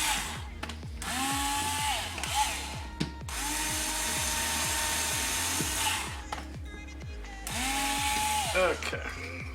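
A drill bores with a bit during a QuadLugs QL 250 Mini+ quadcopter build, up close in three long high whining runs separated by short breaks, with clicks and light handling in between.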